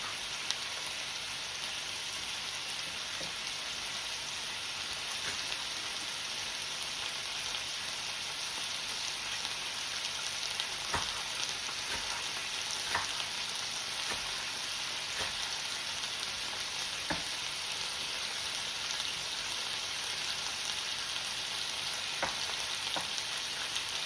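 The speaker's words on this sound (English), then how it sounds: "by searing it really well on both sides" Pot roast meat searing in a hot pan, a steady loud sizzle and crackle with occasional sharp pops, continuous and close with no talk.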